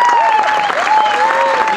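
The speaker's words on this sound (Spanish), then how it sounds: "un fuerte aplauso para él" Brief applause for a band member at a live anniversary show, heard under a sustained musical tone and bits of voice, short and fairly loud.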